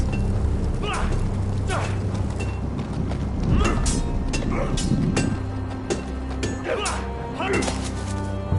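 Horse hooves clip-clopping in a Game of Thrones video game, a steady close rhythm of hoof strikes running beneath people talking.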